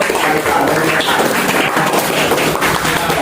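Applause from a classroom audience during a chemistry teaching session, dense and steady throughout, with a few voices mixed in.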